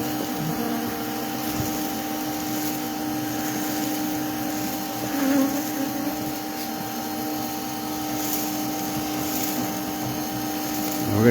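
A bee colony being removed from inside a wall gives off a steady, dense droning hum that holds at an even loudness throughout, with faint background voices.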